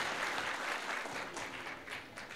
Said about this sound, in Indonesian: Kita tepuk tangan untuk Yudarta, Universitas Yudarta.